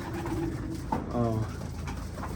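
Caged pigeons coo at feeding time, a few soft throaty coos over a steady noisy background, faint and fairly close.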